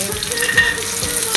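Garlic frying in a pan for beef menudo, a steady close sizzle with brief stirring scrapes, heard alone without any voices.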